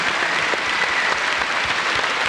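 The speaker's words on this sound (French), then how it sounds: "Je voudrais quand même quelques applaudissements pour cette illusion." Audience applause for an illusion at a show about bare-handed psychic surgeons: continuous, dense clapping from many hands at a steady, loud level throughout.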